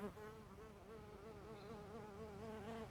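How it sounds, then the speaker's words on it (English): A bee buzzes steadily close by for the whole stretch, its wavering drone holding at an even, moderate loudness with nothing else competing. "I actually have a bee buzzing around me right now"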